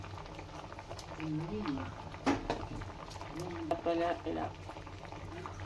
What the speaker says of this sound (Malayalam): മീൻ കറി തിളച്ചോ